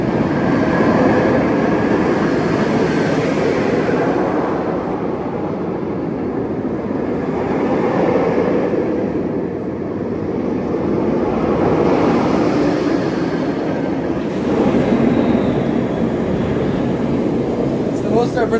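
A continuous low rumbling roar of a roller coaster train carrying two riders along its track, steady with slight swells, heard from nearby.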